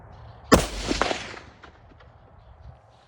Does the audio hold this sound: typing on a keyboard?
no